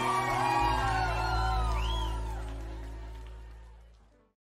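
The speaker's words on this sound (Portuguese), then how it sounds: "Quero ouvir o grito de quem tá tomando uma aí" A live concert audience at a Brazilian sertanejo show shouts and whoops loudly over a droning musical backdrop, voices swelling then gradually fading away before the sound cuts out.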